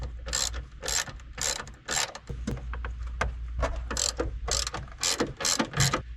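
A ratchet wrench loosens the rear strut nuts on a Mazda Protege, sounding as sharp, close clicking bursts repeated in quick uneven strokes with brief pauses between them.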